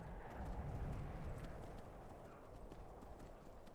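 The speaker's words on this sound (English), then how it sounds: "Time to horse glitch up the mountain" A horse in Skyrim gallops up a mountainside, rapid clip-clopping hoofbeats in a driving rhythm, close and steady over a low rumble.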